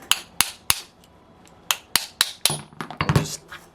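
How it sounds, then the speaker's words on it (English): Sharp metal taps of a flat nose punch driving a bearing out of a Saito FA-90T model engine, about a dozen quick clicks, spaced at first and then bunching together near the end. "just tap that bearing out just like that"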